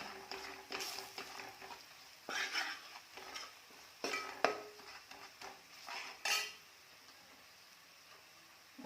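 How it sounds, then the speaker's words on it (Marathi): Kolhapuri onion-garlic masala is stirred in hot oil, soft sizzling broken by repeated scrapes and clinks of a spoon against the pan, then settling into a quieter simmer for the last seconds. "कोल्हापुरी कांदा लसूण मसाला मसाला घालून तेलात छान परतून घ्यायचं"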